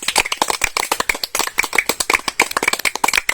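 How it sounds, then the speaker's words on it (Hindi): Loud, close clapping from a small audience cheering the winner of a samosa-eating contest, crisp sharp claps in quick irregular succession with no talking over them. "आप लोग एकदम जोरदार ताली बजा दीजिए।"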